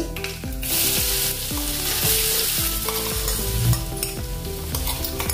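A sustained, loud sizzle of ground spice paste frying in hot oil for aloo baingan sabzi, with steady crackling and a few scraping stirs throughout.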